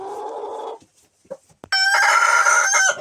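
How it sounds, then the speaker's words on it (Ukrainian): A Leghorn rooster crows twice, loud and close: a short harmonic call, a brief pause with faint clucks, then a longer, strained cock-a-doodle-doo. "Ось так співає наш півник мастер е, Легорн."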